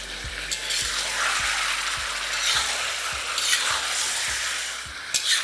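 Small pieces of chicken sizzle steadily in a pan while a spoon stirs them with regular scraping strokes, alone and close with no talk.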